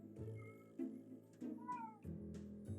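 A house cat meows several times in quick succession, clear and close in a quiet indoor room, with no talking.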